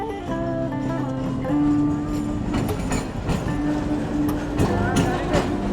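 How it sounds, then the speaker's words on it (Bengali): A train rolls along railway tracks in Rajshahi, a steady rumble of wheels and carriages with a horn-like tone, heard close with a few voices and street noise over it. "এখন ট্রেন আসবে।"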